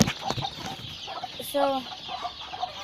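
Young chickens on a small farm cluck and chirp in short bursts close by, with a few brief calls standing out. Someone speaks very briefly.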